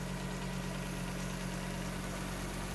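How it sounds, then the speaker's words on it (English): The cold Audi 200 engine idles at a steady, high speed after starting, a continuous close mechanical hum and drone with even vibration throughout and no voices. "you will see how my car starts cold"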